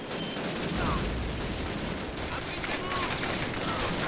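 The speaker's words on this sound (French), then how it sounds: "Oh merde, j'ai une autre mitrailleuse." Machine gun fire in the video game Call of Duty Classic: a dense, continuous crackle of rapid shots and distant battle noise, steady and loud throughout, with someone talking over it.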